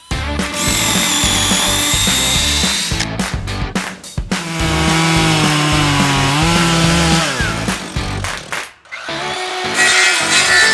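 Power tool cutting into wood, loud high-pitched whining bursts of motor and blade that start and stop several times over about ten seconds, with no talking.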